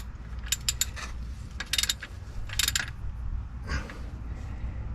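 A Mishimoto aluminum transmission cooling line fitting on an LLY engine is tightened with a wrench, a few short bursts of quick metallic ratchet clicks over a low steady hum, close and faint.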